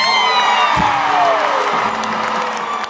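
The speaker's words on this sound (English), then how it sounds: "Wow, it's getting booed." Large concert crowd at a show on Jones Beach, a loud sustained roar of voices with whoops and shouts, close and continuous throughout.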